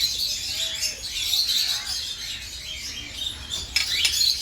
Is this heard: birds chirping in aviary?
yes